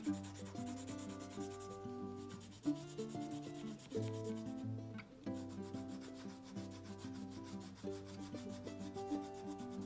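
A blue crayon colors on paper during a children's art lesson on Calder's La Fleur paper cutouts, with steady rubbing strokes running under continuous background music.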